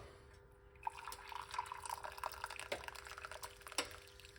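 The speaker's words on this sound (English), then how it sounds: "One cup of hot water." Hot water pours softly into a cup for onion tea, a quiet trickling and splashing that continues for a few seconds, close by and faint.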